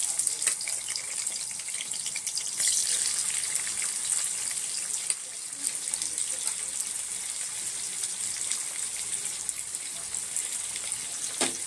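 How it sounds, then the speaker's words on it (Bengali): Chopped onion sizzles in hot mustard oil for a Bengali mutton kosha, giving a steady, loud, hissing fry that continues throughout with no talking. "তেলটা আমাদের মোটামুটি গরম হয়ে গেছে। এবার দিয়ে দেবো পেঁয়াজ কুচি।"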